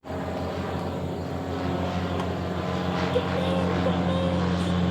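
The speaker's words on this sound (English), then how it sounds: "It's a plane flying over." Propeller airplane flying overhead, a steady droning engine hum with tonal harmonics that swells slightly louder as it passes, continuous throughout.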